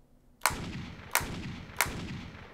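Three sharp synthetic light gun shots from a PlayStation game on the DuckStation emulator with a Sinden Lightgun, evenly spaced about two-thirds of a second apart, each with a short bright crack and brief rumbling tail.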